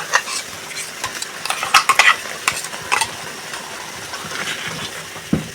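Mutton ball gravy with coconut paste is stirred in a pan, giving repeated scraping and clinking spoon strokes over a soft steady sizzle, close and fairly loud.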